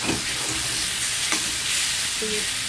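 Dry red chillies, black cumin, bay leaf and crushed garlic sizzle steadily in hot oil for a taro-leaf dish, a close, continuous fry with a few brief stirring scrapes and no talk.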